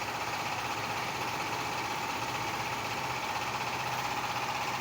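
A trawler boat's engine runs in a steady, unbroken drone that fills the whole stretch, loud and close, with no talk over it.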